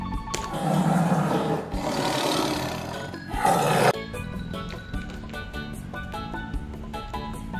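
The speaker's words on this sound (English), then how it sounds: "Tiger." A tiger gives a long, rough, rumbling roar up close, swelling and fading over several seconds, then lower background sound.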